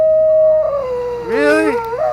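A pet dog howls up close, a long steady tone sliding into a wavering, rising-and-falling yowl over about two seconds, with no talk over it.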